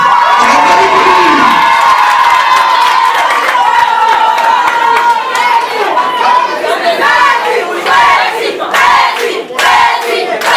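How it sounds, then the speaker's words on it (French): A large crowd at a political party installation ceremony cheers and shouts loudly, with bursts of clapping and excited chatter filling the space throughout. "On applaudit pour lui."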